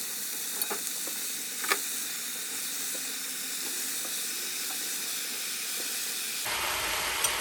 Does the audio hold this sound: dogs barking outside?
no